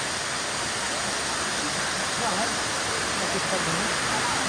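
The 15-metre Mançura waterfall in Turkey roars as a steady, dense rush of falling water, loud and continuous throughout, with no breaks.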